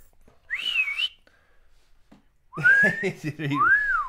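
Two short wavering whistles from a person attempting to whistle, the first thin and breathy, the second longer and sliding up and down, with a brief pause between them.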